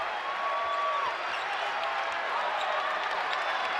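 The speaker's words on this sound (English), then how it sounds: "the Diddle Arena crowd starting to make a little more noise" A basketball crowd at Diddle Arena roars in a dense, continuous wash of cheering and noise, sustained and fairly loud across the arena, with faint sneaker squeaks.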